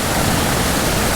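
A waterfall spills into a small pool on a mountain creek, a loud, close, continuous rushing roar with no break.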